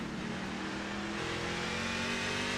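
A race truck brakes hard into turn one at Martinsville Speedway, its engine roaring loud and steady with a dense mechanical drone, other trucks blending into the continuous noise.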